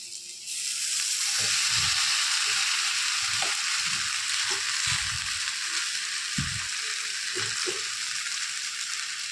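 Maggi noodles drop into a pan of fried potatoes, setting off a steady, close hiss of frying with soft thuds and scraping stir sounds scattered through it.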